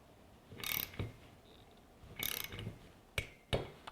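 A torque wrench set to 10 newton meters clicks while tightening a Direct Hit screw nut: a few short sharp ratchet clicks and bursts, close and quiet, with no talk.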